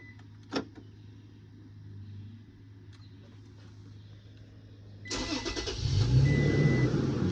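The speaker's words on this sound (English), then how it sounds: "So now the truck is running." A 2019 Toyota Tacoma started by remote start: a quiet cabin hum and a few faint clicks, then the engine cranks and catches at once, settling into a steady, fairly loud idle.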